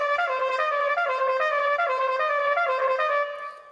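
A solo trumpet plays a lick using alternate-fingering tremolo, a bright, rapidly wavering sustained note that holds steady and close before fading at the end, with no talking.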